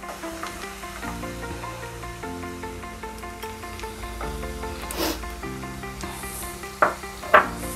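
Finely chopped onions tossed into a hot pan of frying ingredients, with a steady sizzle running throughout, faint background music, and a couple of sharper stirring clatters near the end.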